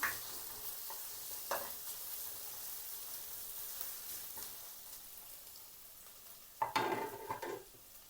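Sliced onion and capsicum sauté in oil with a faint, steady sizzle under occasional spoon scrapes, and a louder stirring clatter toward the end, without any speech.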